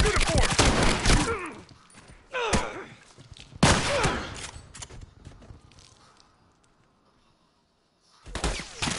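Bursts of gunfire from an online multiplayer match of The Last of Us, several sharp shots and rapid volleys close up in the first few seconds with players talking over them, then a lull before more firing near the end.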